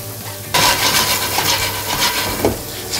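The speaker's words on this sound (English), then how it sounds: "you want to fry this 5-spice off, just so the spices really release their flavour" Pork tossed with Chinese five-spice frying in a hot pan, a loud steady sizzle that kicks in abruptly and continues close up, with faint stirring scrapes and no talking.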